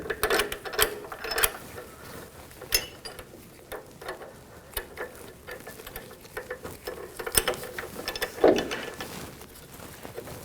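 A ratchet clicks in quick, irregular bursts while starting two bolts on a shock and spring assembly of a 2014-2018 GMC Sierra truck, close and fairly loud with metallic knocks, with no talking.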